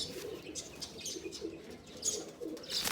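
Low, soft pigeon cooing repeats faintly at a loft where birds are being handled and checked, with light chirps and rustling around it and no voices.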